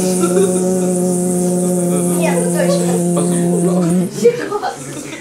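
A voice hums a steady, sustained buzz in imitation of a flying mosquito, holding it for about four seconds before breaking off into a few soft vocal sounds.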